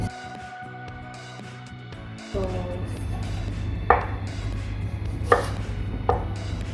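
A knife thin-slices an onion on a board for chicken biryani, a few crisp chops spaced apart over a steady background hum.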